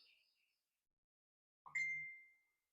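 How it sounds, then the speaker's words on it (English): A phone notification chimes once, a bright single ding with a short ringing decay, heard clearly in a quiet room after a faint earlier chirp. "forgot to turn the sound off on my phone yet again"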